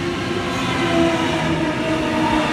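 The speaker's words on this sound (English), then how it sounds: "We have a Waratah arriving." A Sydney Waratah electric train arrives at a suburban station, its loud steady rumble and whirring motor hum filling the platform without a break.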